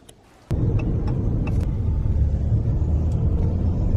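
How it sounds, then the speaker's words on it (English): Inside a pickup truck hauling a load of trash on the road, a quiet moment gives way to a sudden steady engine rumble and road noise that continues throughout, with faint clicks and rattles over it. "So we're in Mark's truck again."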